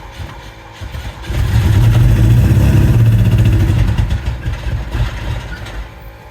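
An engine without a new fuel pump starts and runs briefly, a loud rough idle with a throaty rumble that swells after a second, holds for a few seconds, then sputters and fades as it dies.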